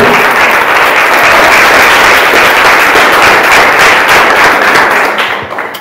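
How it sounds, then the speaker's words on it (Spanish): A church congregation bursts into loud, sustained applause during a Spanish-language worship service, the dense clapping holding steady for several seconds before trailing off at the end. "Que aplaude el Señor bien fuerte"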